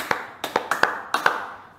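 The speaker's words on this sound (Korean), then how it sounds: "박수를 치면요, 그 박수 소리가 나중에 이제 프리미어 프로나 이런 것들로 싱크를 할 수가 있어요." Sharp hand claps made on camera to mark a sync point for editing, about six crisp, close claps in loose pairs, alone with no talk.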